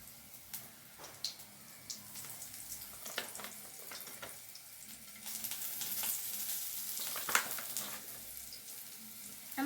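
Chicken garlic fingers frying in hot oil, a steady soft sizzle with scattered pops and crackles throughout, fairly quiet and close with no talking.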